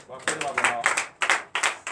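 A church congregation in Benin claps in acclamation during Sunday worship, sharp rhythmic clapping in steady bursts, close and loud.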